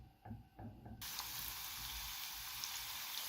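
Chopped garlic cloves frying in oil in a pan, a few soft stirring knocks followed by a sudden steady hiss of sizzling that continues loud and even.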